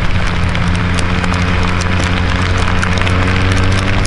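Hail pelting a motorcyclist's helmet while riding in a storm, a loud relentless crackle of hard impacts over the low rumble of the engine.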